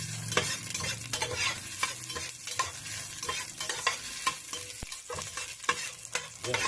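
Onions sauté and stir in a pan, the opening step of a chicken afritada: a steady close sizzle broken by repeated clinks and scrapes of a utensil against the pan, with no voices.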